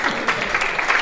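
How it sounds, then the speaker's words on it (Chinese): Wedding guests in a ballroom clap for the couple's entrance in a brief, steady burst of crowd applause. "give a warm, nice, warm applause for our lovely couple"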